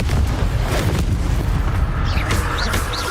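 Heavy booming blasts from the Confringo fire spell in Hogwarts Legacy, a dense run of loud explosive thuds and crackling impacts packed together over a rumbling low end, with brief whistling magical effects near the end.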